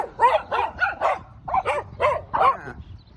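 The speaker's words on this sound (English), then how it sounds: "Wow, look at all these dogs." Several street dogs in a rough neighborhood bark loudly and close by, in about seven sharp, repeated barks spread evenly with short gaps between them and no talking over them.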